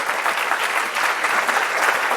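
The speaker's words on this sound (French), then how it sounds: "Je crois qu'on peut l'applaudir." Applause from a lecture audience at a university teaching-day conference, a steady dense wash of many hands clapping together, fairly loud and continuous throughout with no talk over it.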